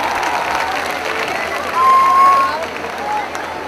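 Crowd at an outdoor political rally clapping and cheering, a broad loud wash of applause with shouts rising in the middle, while an amplified voice carries over it.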